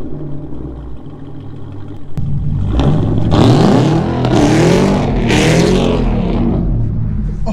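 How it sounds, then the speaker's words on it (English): A modded Camaro ZL1's engine roars and revs hard in repeated surges while the car slides on icy snow, loud and close, with the revs rising and falling over several seconds. "We're about to slide the car in the snow"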